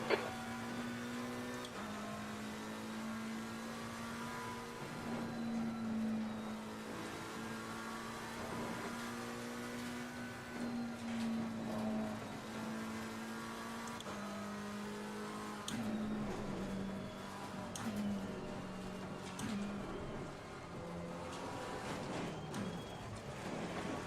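A race car engine in Assetto Corsa Competizione, on track during an online league race, holds a loud, steady harmonic drone throughout, with repeated pitch drops and climbs as gears shift under braking and acceleration.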